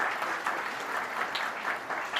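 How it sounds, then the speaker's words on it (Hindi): Applause from a seated audience at a community education seminar, even steady clapping with a few brighter individual claps standing out, moderately distant and without talk. "एक बार और तालियां हो जाए।"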